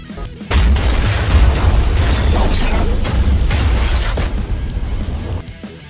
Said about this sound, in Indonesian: Ikkaku secara langsung meledakkan pabriknya